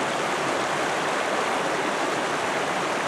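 Swift whitewater stream rushing steadily in a Colorado national forest, a dense, continuous broadband roar that stays close and loud throughout with no voices.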